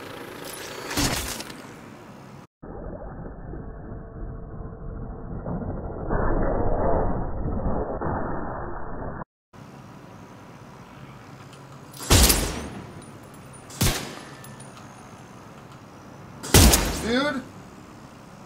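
Assault turret shooting in the video game The Division: three loud, separate bangs near the end and one earlier. A stretch of muffled talk and other game sound sits between them, and a voice is heard briefly.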